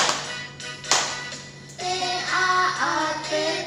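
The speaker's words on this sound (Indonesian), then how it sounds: "Ayo tepuk tangan ya." Children clap their hands together at a Sunday school singing session, a few scattered claps at first, then a steady rhythmic clapping over sung voices.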